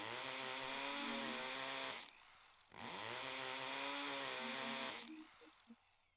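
A chainsaw roars in The Fruit of Grisaia game, two long sustained revving bursts separated by a short pause, loud and close, trailing off with a sputter at the end.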